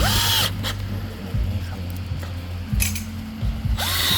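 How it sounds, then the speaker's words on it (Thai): A power drill drives small screws into a bedside cabinet panel during assembly, with short whirring bursts at the start, near the end and again at the close, separated by quieter pauses. "เป็นน็อตยิงลาง จะเริ่มยิงตั้งแต่รูที่สอง"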